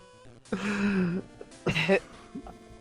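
A man coughs and clears his throat during a gaming livestream, two rough, close bursts about a second apart, followed by a brief quiet stretch.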